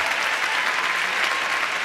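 Steady, dense audience applause in a television studio during an evening talk show, loud and continuous with no voices.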